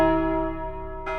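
A heavy bell tolls once, its deep sustained ring slowly fading before a second strike sounds near the end, loud and close with no voices.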